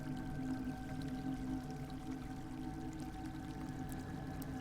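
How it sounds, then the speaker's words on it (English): Steady running water from a decorative planter in a spaceship room in the video game Warframe, a soft continuous pouring trickle under a low ambient hum, with no voices. "I use this like planter thing that makes like water sounds"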